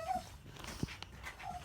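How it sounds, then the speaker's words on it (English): Neighborhood dogs bark and whimper at a distance: soft whines at the start and end, a single sharp bark in the middle, and a few faint yips, all fairly quiet with no talking. "The other dogs in the neighborhood don't need to be part of this."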